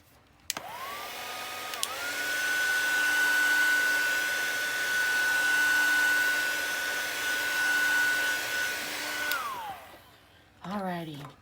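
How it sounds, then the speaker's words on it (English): A hot-air heat tool sets StazOn ink stamped on metal or plastic, a steady loud blowing whine with a fixed tone that starts sharply, runs about nine seconds and then cuts off. "Let me heat set that."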